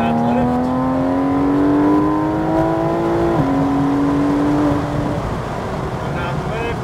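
A Porsche 911 GT3 RS accelerates hard on the New Jersey Motorsports Park track, its engine note climbing steadily through a gear change, loud and close from inside the car, with an instructor's voice over it.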